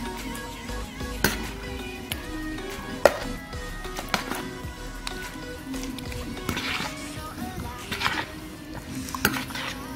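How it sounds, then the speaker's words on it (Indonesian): Meat is mixed with rendang spice paste, a utensil scraping and clattering against a pot or bowl in an uneven stirring rhythm, close by with occasional sharper knocks. "kita campurkan dulu bumbu rendangnya ke dalam daging. Jadi diaduk-aduk seperti ini biar merata"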